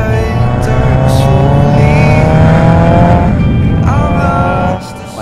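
A 1970 Datsun 240Z drives with a loud, close engine note rising and falling through gear changes, its harmonic whine climbing before easing off near the end.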